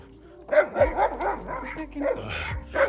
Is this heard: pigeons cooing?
no